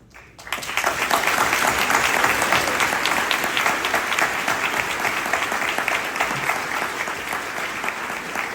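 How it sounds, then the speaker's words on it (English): An audience at a charity fundraising gala claps for the heroes among them, applause that swells up quickly after a brief quiet start and then holds as a dense, sustained ovation. "Please join with me in applauding the heroes who are here amongst us."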